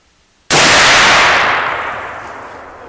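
A muzzleloader fitted with a cartridge taking a 209 shotgun primer fires a single sharp, loud bang after a brief quiet moment, its blast ringing out and fading slowly over the next two seconds.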